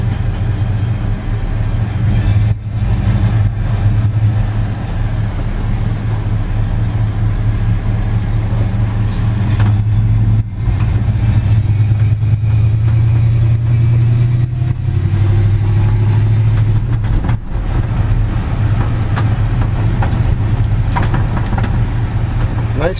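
A 1949 Dodge pickup truck drives out of a driveway with its engine running steadily the whole time, loud and close with a constant low rumble and scattered knocks and thumps.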